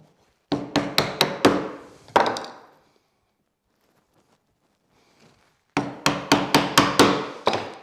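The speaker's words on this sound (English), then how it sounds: "This is when you know if your chisel's sharp or not, because pine will just tear, it won't actually cut." A sharp chisel cuts pine while shaping a shoulder on a chair part, driven by two quick runs of about five crisp, close, hard taps each, with a single strike between them and a silent gap.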